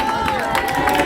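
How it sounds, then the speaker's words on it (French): Applause and crowd noise from an audience at a charity fundraising auction for a heart-surgery cause, steady and fairly close, with a sustained tone and some background voices. "Venez, on peut l'applaudir également."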